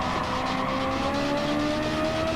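A Ferrari F430 Challenge race car engine roars loudly and steadily, holding a sustained high-pitched note with a slowly rising tone throughout, close and unbroken with no talk.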